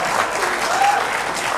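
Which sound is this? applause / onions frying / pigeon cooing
applause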